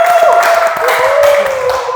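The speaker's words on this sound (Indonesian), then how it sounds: "di sini boleh kita berikan tepuk tangan untuk Diva" A studio audience applauds a guest on a talk show, with brief clapping under a sustained musical tone and some background voices.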